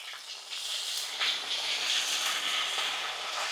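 Salted water sprinkled over amla (Indian gooseberries) in a hot pan for pickle gives a loud, steady sizzling hiss that runs unbroken throughout, swelling slightly after the first second.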